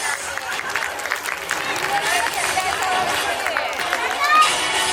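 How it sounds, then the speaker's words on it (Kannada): Audience at a Sankranti cultural program applauding: sustained, dense clapping from a large crowd, loud and continuous, with a faint murmur of voices mixed in and a slight swell near the end. "ನಿಮ್ಮ ಚಪ್ಪಾಳೆಗಳು ನಿಲ್ಲದಿರಲಿ"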